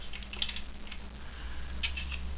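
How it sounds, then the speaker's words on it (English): Small clicks from the clicker mechanism of a rusty Century 21 Toys Moonship toy, opened up for repair; a few quick, faint ticking bursts over a steady low hum, with no talking. "The little clicker still works with that clicking sound"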